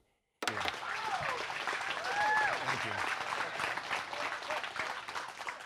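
A stand-up comedy audience breaks into loud applause that starts abruptly from silence and holds steady, with some voices and cheers mixed into the clapping.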